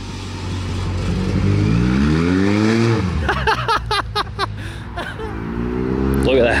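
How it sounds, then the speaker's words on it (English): A Z1 car fitted with a big turbo pulls away, its engine rising through a rev sweep and then dropping into a loud, choppy, pulsing idle before it builds again. "Turbo still spins."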